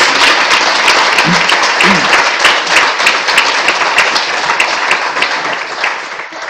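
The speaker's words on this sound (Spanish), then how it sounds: "Un fuerte aplauso otra vez." An audience applauds loudly at a formal session, a dense, steady wash of clapping held for several seconds before easing slightly toward the end.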